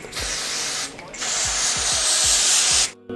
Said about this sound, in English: So I'll be using this holding spray to push my hairline backward.